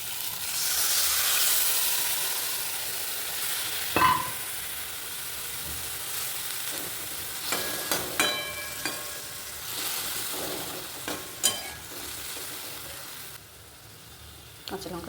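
A splash of water hits leftover fish-frying oil, bursting into a hissing sizzle that settles into a softer, crackling fry. Scattered clicks of utensils and occasional voices sit under it.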